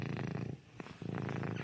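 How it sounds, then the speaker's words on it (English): A male cat purring up close, a low rhythmic rumble in two long breaths separated by a brief pause, with nothing else heard. "All I can hear is the purring of this boy now"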